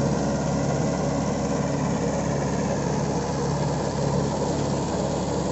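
Mahindra 575 XP Plus tractor running with a 7-foot rotavator, a continuous steady engine drone with a broad rough hum, close and even in level, without voices.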